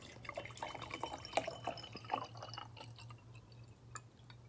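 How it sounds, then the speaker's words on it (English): Gold-labelled bottled water is poured into a container, giving a faint, close, uneven run of drips and splashes that is busiest early on and thins to sparse droplets toward the end. "This is the rich water I'll be pouring"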